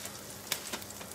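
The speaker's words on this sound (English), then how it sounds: "I'm using the world's biggest frying pan to make a single serving of sausage." Sausage sizzles in a very large frying pan, a soft steady frying hiss with faint crackles and a brief scrape of stirring at the end.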